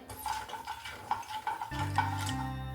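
Mustard seeds crackle and pop in hot oil in a pan, a steady close sizzle with small repeated ticks, and a low tonal hum comes in partway through.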